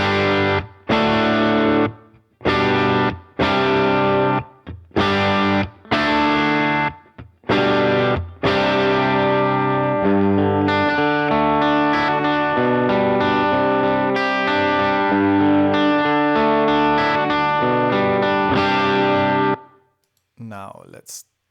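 Electric guitar through a Vox amplifier with a distorted, effects-heavy tone, loud and up close: a run of short stabbed chords with gaps, then a sustained ringing passage that ends abruptly.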